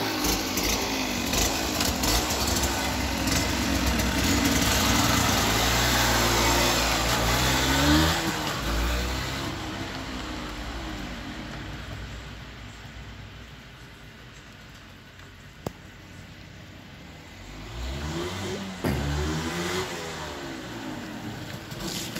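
A motorcycle engine runs throughout a ride, a steady mid-pitched drone that rises and falls with revving and gear changes, fairly close, with no talk over it.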